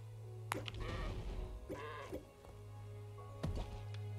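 Sheep in the game Craftopia bleat in a few short, wavering calls spread over several seconds, quiet against a steady low game hum with sharp clicks of in-game action between them.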